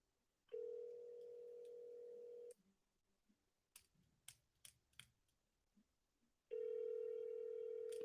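An unanswered outgoing phone call made while cold calling real estate sellers: two long electronic ring tones separated by quiet, with a scatter of nearby keyboard clicks and taps between them.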